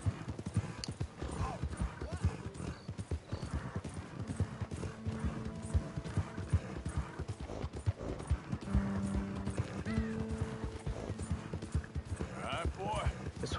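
Horse hooves gallop in a video game, a quick rhythmic clip-clop kept up throughout at low level, with voices chatting over it.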